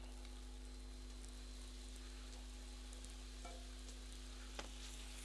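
Shiitake mushrooms frying in a pan, heard as a quiet, steady sizzle with a faint electrical hum underneath and no talking.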